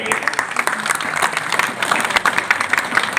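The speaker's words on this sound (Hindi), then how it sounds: "जोरदार तालियों के लिए।" Audience applause at an International Women's Day gathering held at an ashram, steady dense clapping that fills the whole moment with a crowd murmur beneath.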